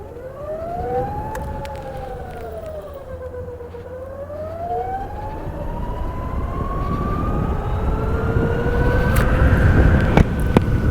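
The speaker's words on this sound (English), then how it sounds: "You just have that little whine or whirl from the electric motor." The electric motor of a BMW CE 02 eParkourer scooter whines while riding, a clear tonal whir that dips and rises with speed over a continuous road and wind rumble that grows steadily louder.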